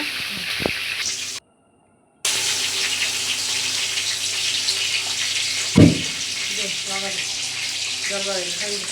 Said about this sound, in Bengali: এবার একটু নেড়ে পানি দিয়ে নিব